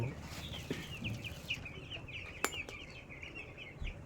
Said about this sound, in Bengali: এই দেখেন ব্রয়লার মুরগির ফার্ম ফার্মে প্রায় নয়শোর কাছাকাছি মুরগি আছে